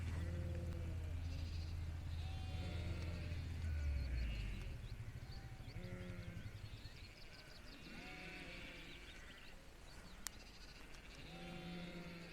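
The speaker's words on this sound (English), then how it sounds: "The sheep are in the field as they are then." Several sheep call repeatedly across a field at Wall End Farm, Langdale, in the Lake District, with short bleats scattered at irregular intervals, some near and some farther off, over a low rumble that fades after the first few seconds.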